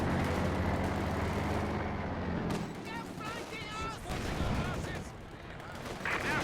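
Machine-gun fire and battlefield explosions from the World War II strategy game Company of Heroes 2 rumble as dense bursts under ongoing commentary, growing busier toward the end.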